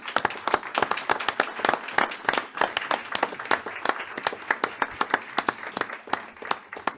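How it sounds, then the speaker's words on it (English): A small group at a board of supervisors meeting claps for a group of young students, sparse individual claps close to the microphone in an irregular patter with no voices. "Really would like to give this outstanding group of young students a round of applause"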